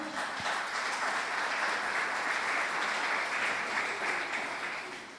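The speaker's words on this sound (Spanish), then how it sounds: "Denle un fuerte aplauso al Señor." Church congregation breaking into loud, sustained applause during a Spanish-language sermon, a dense wash of many hands clapping at a steady level that fades slightly at the very end.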